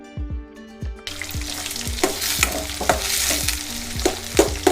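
Mustard seeds, green and dried red chilies, curry leaves and sliced onions hit hot oil for a dal tempering, bursting into a loud, dense sizzle after a quieter start, with rhythmic spoon clacks from stirring throughout.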